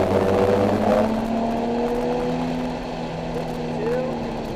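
Nissan 370Z on track at Laguna Seca, its engine droning steadily at close range with a rising whine as it accelerates, while a voice talks faintly over it.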